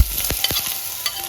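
Ginger and garlic dropped into hot oil already sputtering with mustard and fenugreek seeds for a Kerala-style king fish curry, giving a short bright sizzle with quick stirring scrapes in a near, busy pan.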